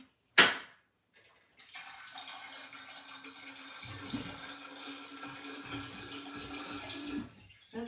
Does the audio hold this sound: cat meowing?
no